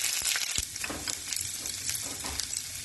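Urad dal, chana dal and chopped ginger crackle in hot oil for kara paniyaram tempering, a close, busy sizzle with sharp popping bursts and steady spitting throughout, no talking.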